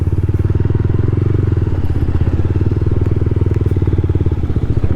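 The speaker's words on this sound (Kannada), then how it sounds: "ಸುಮಾರು ಬೈಕ್ಗಳು ಬಂದಿದೆ." Motorbikes arriving on a short ghat road near a temple, a loud, close engine putter with a steady rapid pulse that runs throughout and drops off slightly near the end.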